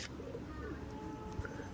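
Soft pigeon coos under a steady background hum, faint and continuous, from a few pigeons perched up high.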